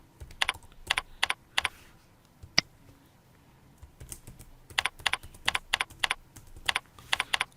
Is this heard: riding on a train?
no